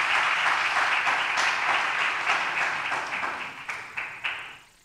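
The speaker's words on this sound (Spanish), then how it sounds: "¿Y por qué no da un fuerte aplauso a Jesús?" Pentecostal church congregation applauding loudly and steadily, a dense wash of clapping that thins into a few scattered final claps as it dies away.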